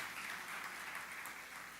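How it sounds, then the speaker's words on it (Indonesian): A church congregation claps together in a steady, continuous burst of applause, heard from a distance and fairly quiet. "Ayo kita coba beri tepuk tangan yang paling meriah bagi Tuhan itu."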